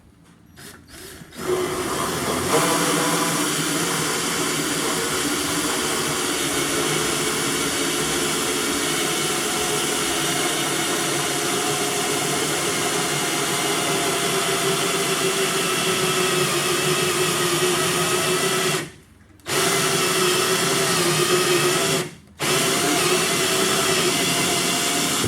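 A power drill with a hole saw cutting a 3-inch hole in a diesel fuel tank on a 1990s 12-valve Dodge Ram 4x4, heard as a loud continuous grinding whine after a short start, broken by two brief pauses.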